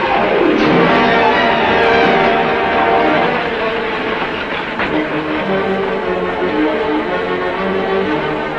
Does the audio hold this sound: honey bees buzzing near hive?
no